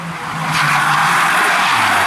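A race car at a Norefjell hill climb brakes hard into a corner, tires skidding and squealing loudly over a roaring engine, close and sustained for about two seconds.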